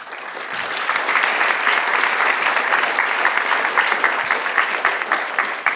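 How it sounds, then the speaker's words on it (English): Loud, sustained audience applause at a startup competition's grand final trophy ceremony, a dense crowd clapping that builds quickly and holds steady throughout. "please give another big round of applause"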